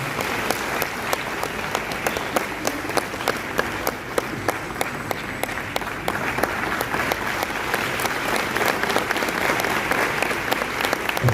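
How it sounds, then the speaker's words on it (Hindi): Audience applause at a Christian devotional music gathering, steady and dense for the full stretch, with many overlapping claps at a constant loud level and no voice on top. "आइए हम तालियों के साथ"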